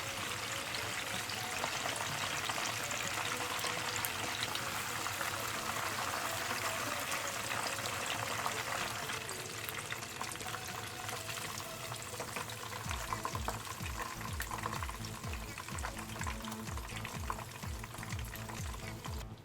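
Spicy fried chicken sizzling in hot oil over high heat, a loud, dense, steady crackle throughout, with stirring or scraping adding a rhythmic clatter toward the end; no talking.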